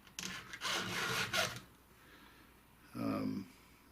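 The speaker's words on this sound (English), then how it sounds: "start by filing the teeth in, because it was easier to see" A round file works over the teeth of a saw in a few short rasping strokes, with a couple of bursts close together and then a pause before one last stroke.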